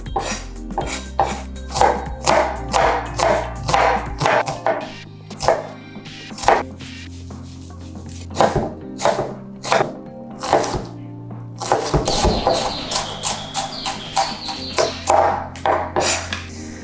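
Rapid rhythmic knife chops on a cutting board while an onion is minced, crisp repeated strikes in steady bursts, with a brief pause midway and faster, brighter chopping toward the end.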